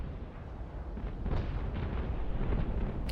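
A warship blowing up in a Naval Action PvP battle, heard as a loud, rolling explosive rumble that builds and holds for a few seconds, with no voices.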